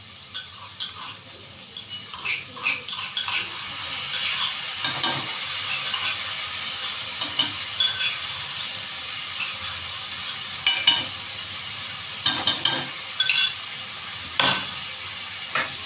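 Vegetables and seeds fry with ginger garlic paste in a pan for protein rice, giving a continuous close sizzle broken by repeated clinks and scrapes of stirring, with no voices.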